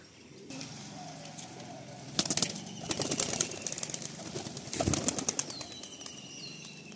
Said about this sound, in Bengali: আসুন বন্ধুরা, আমরা 4টে পায়রা উড়িয়ে আপনাদের শখ করাচ্ছি।